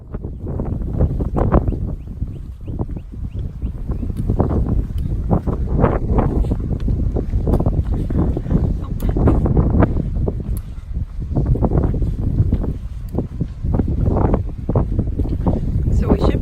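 Strong wind buffets the microphone on the Goodwater Loop Trail in Georgetown, Texas, a loud gusting roar that rises and falls throughout, with speech partly audible beneath it.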